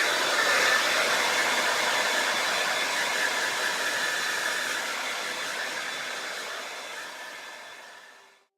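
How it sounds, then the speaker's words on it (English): Close, loud hair dryer blow-drying frizzy hair, a steady broad whooshing roar that runs unbroken for several seconds, then winds down and cuts off at the end. "I'm going to blow dry my hair the frizzy way"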